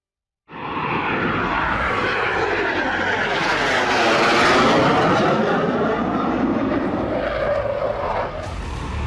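Indian Air Force fighter jets, Jaguar and Mirage, roar past at an air show over the Ganga Expressway in Shahjahanpur, with a loud, sustained engine rush that swells and sweeps in pitch as they pass overhead.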